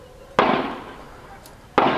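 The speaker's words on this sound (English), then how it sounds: "the thrilling sounds of gunshots erupt the midnight silence" Sharp outdoor gunshots at night in a Cape Flats neighbourhood, two loud reports nearly a second and a half apart, each ringing off into a fading echo.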